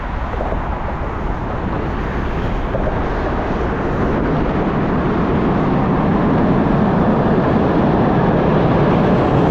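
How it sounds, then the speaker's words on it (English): A train passes on the Benjamin Franklin Bridge as a loud, continuous broadband roar and rumble that builds gradually over about ten seconds, heavy and close with no break. "Choo-choo."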